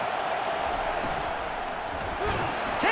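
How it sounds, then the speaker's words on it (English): Stadium crowd noise in College Football 25, a South Carolina Gamecocks exhibition game: a dense, steady roar of fans that swells slightly near the end, with faint talk mixed in. "This crowd going to try to make life miserable for these guys."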